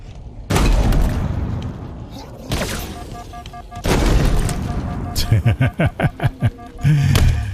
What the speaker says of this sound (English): Now probably will try and use my cheese gun to take these guys down.